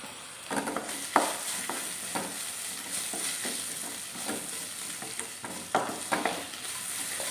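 Mushrooms with bits of coconut fry in hot oil while being stirred for a spicy mushroom masala, giving a steady close sizzle broken by scraping stir strokes, with no talking.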